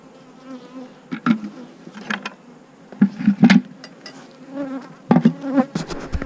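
Honey bees buzz around an open hive during an inspection, a close, steady hum broken by louder passes and bursts as individual bees fly near, alone with no voices.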